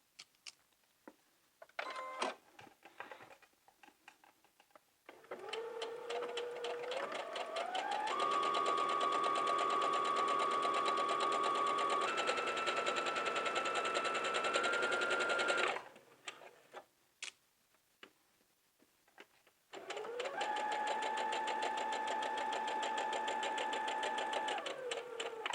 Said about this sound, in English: we're going to go to the sewing machine and we're going to insert a 5/8 inch straight seam from the hem all the way up to the waist